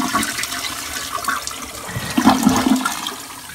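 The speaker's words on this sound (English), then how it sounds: "Flush it down the toilet." A household toilet is flushed, its steady rushing, gurgling water filling the whole stretch close by and swelling louder toward the end.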